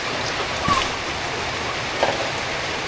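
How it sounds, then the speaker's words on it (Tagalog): Rain falls steadily during outdoor cooking in the Philippine province, a dense hissing patter that fills the background, with a couple of faint thuds or drips standing out. "Habang nagluluto ka, pumapatak yung ulan."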